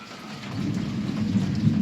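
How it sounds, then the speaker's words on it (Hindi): Heavy rain pours steadily while a low roll of thunder rumbles underneath, building slightly toward the end. "बादल गरज रहे हैं।"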